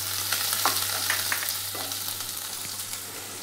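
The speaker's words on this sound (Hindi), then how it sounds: "इसमें हम 1 स्पून जीरा डालेंगे, और साथ में हम यहाँ पर कटा हुआ लहसुन वो हम डाल देंगे" Cumin seeds and chopped garlic sizzle and fry in hot oil in a pan, a steady bright crackle with a few louder pops and stirring scrapes, close and continuous with no talking.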